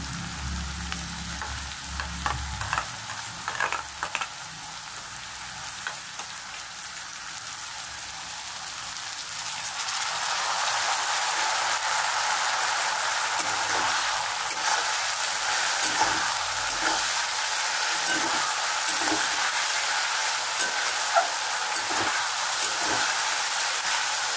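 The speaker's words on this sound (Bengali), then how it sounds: "এবার দেবো আদা রসুনের পেস্টটা।" Ginger garlic paste hits a pan of frying potatoes, with scattered stirring clatters at first, then a louder, denser spattering sizzle that holds steady to the end, close and without any talking.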